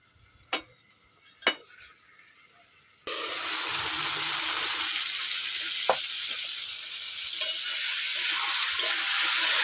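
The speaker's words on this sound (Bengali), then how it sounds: "ঝিঙে কতটুকুন ছিল, ভাজতে ভাজতে একদম কমে গেছে, ভাজা হয়ে গেছে।" A few faint taps, then a steady soft sizzle of ridge gourd frying in a pan, with occasional light clicks of a utensil.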